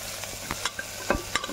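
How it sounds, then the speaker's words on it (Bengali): Tomato frying in a pan for a lentil dal, with a steady soft sizzle and several sharp stirring scrapes spaced irregularly over a second and a half, close and fairly quiet. "এবার টমেটোটা ভাজা ভাজা হচ্ছে"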